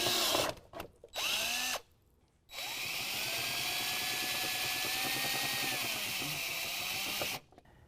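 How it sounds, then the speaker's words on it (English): A power drill with a 5/16 inch bit enlarges a pilot hole during installation of running boards on a 2017 Ford F-250, giving a few short revving bursts, then one long steady whining run that stops abruptly. "we're going to take a 5/16 inch drill bit and clearance out the rest of it"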